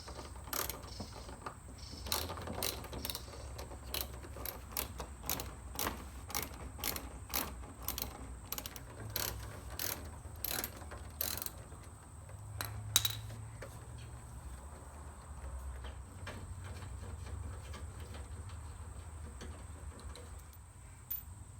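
A hand ratchet clicks in rapid repeated strokes while loosening bolts on the bumper of a second-generation MazdaSpeed3, close and steady with short pauses between bursts.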